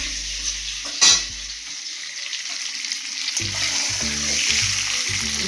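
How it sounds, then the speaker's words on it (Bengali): Egg sizzles in a pan for a light fry, a continuous hiss with a brief clatter near the start and faint stirring sounds later, with no voices. "ডিমটা বেশি ভাজতে হবে না, একটু হালকায় ভেজে নেবেন"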